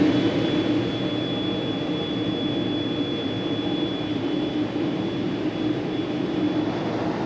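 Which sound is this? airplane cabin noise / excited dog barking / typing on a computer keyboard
airplane cabin noise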